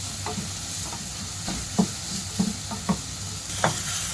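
Vegetables for millet sambar rice sautéing in a pan, a steady low sizzle under repeated scraping stirs, about eight clear strokes spaced unevenly, close and moderately loud with no talking.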